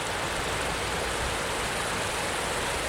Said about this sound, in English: You just can't get enough babbling brook shots, can you, really?